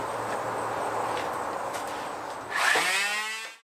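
A power sander grinding hydro-dipped graphics off a gun barrel: a steady, close abrasive whir that swells louder in its final second, then a rising whine before it cuts off.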